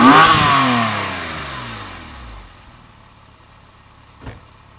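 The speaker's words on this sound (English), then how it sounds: "I'll shut the bonnet and just rev the exhaust so you can hear what it sounds like." A Porsche 911 997.1 Carrera S, started cold and idling about a minute with the bonnet shut, lets out one loud, close exhaust rev that falls away to a quiet idle, ending with a brief sharp click.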